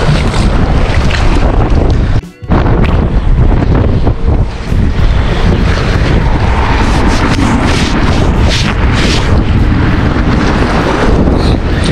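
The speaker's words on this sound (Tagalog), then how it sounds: "lakas ng alon, lakas din ng hangin" Strong wind roaring over a small fishing boat at sea during net fishing, loud continuous buffeting with crashing waves and water rushing, one brief dropout midway.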